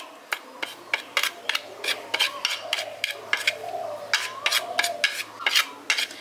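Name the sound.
mixing chili and pepper powder spices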